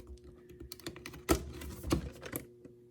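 A knife slices into a taped cardboard box packing an FM Bluetooth car transmitter, giving close, crackly scraping and tearing with two sharp pops partway through before it trails off. No one speaks.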